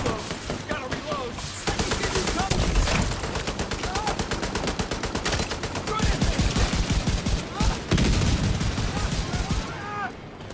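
Dense, continuous automatic gunfire from a PvP match in The Division video game, loud and sustained across the whole stretch, with overlapping bursts and occasional brief lulls.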